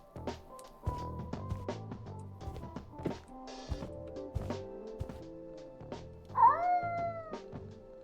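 A cat meows in a spooky horror video game, one loud, near call rising out of soft thuds, taps and tonal background music.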